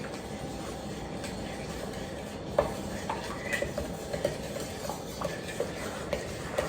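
Shortbread dough ingredients of flour, salt and sugar are stirred by hand in a bowl, soft scraping under a steady hiss with a series of light clicks and taps from the utensil against the bowl.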